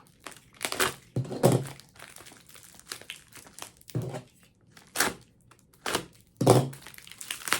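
A taped package being opened by hand: repeated bursts of crinkling, tearing tape and crumpling wrap, close and loud, separated by short quiet gaps.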